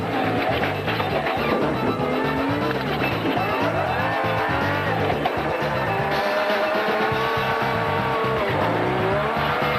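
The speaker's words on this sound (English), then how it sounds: "And listen to the Ranger's engine working overtime." A Ford Ranger rally truck strains hard through loose sand at the Limpopo 400 off-road race, its engine roaring continuously and loudly throughout, with an announcer talking over it.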